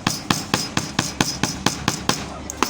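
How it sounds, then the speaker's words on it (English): A hammer bangs carefully on the folded edge of a leather belt in a belt-making class: about a dozen sharp, evenly spaced knocks, close and loud. "now we can take our hammer, we bang carefully on the edge like this"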